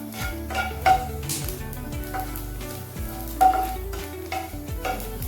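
Pirandai (adamant creeper) sautéing in a little oil in a pan, a steady close sizzle with repeated stirring scrapes and a couple of sharper clinks, no talk.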